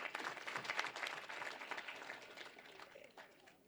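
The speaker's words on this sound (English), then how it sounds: "Can we kindly give her another round of applause?" An audience at an official gathering on the repatriation of Namibians from Botswana applauds in a quiet, scattered round that gradually thins out and fades toward the end.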